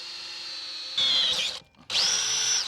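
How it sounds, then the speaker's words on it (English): A power drill bores a hole into the body of an RV in short bursts: a steady whine, a sharper biting whir, a brief pause, then another high straining run. "Once you drill that second hole, that's what it's going to be."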